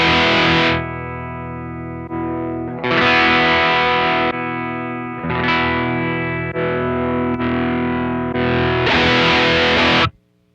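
An electric guitar runs through a Strymon Riverside distortion pedal, playing loud, sustained distorted chords in several bursts separated by brief dips as the tone shifts, ringing out alone until it stops abruptly at the end.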